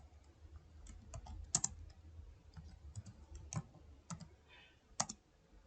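Quiet, irregular computer keyboard typing while entering data into Excel, a scattering of soft clicks with a few louder key strikes, close by and alone.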